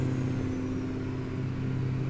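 A 1978 Mack ENDDT865 285 hp truck engine in American Truck Simulator holds a steady, low droning rumble with strong harmonic hum, continuous and moderately loud, with no talk.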